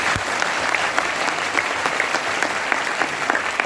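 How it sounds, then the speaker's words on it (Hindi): An audience at an event in Kolkata claps loudly and continuously, a dense crackle of many hands that holds steady from start to finish. "सत्येंद्र भाटिया जी के लिए जबरदस्त ताली बजाइए"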